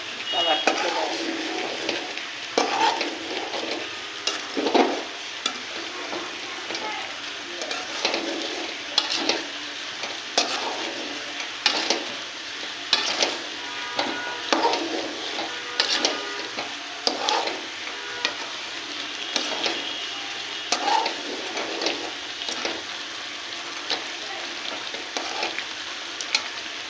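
Spices, cumin and panch phoron fry in oil for pickle masala, stirred steadily with a utensil that scrapes the pan in a repeating rhythm over a constant crackling sizzle.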